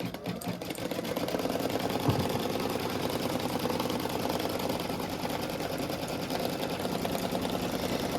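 A Kimberbell embroidery machine stitches a marking line with a continuous fast, even mechanical whirr and rapid needle ticking, close up and steady throughout.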